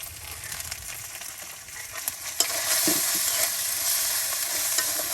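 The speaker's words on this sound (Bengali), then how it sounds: "পেঁয়াজ কুচি ও মরিচ কুচি কিন্তু একসাথে তেলে আপনার এই যে ভেজে নেওয়া হচ্ছে" Chopped onion and chili fry in oil over a village cooking fire, giving a steady broad sizzle that grows louder partway through, with occasional stirring scrapes and no talk.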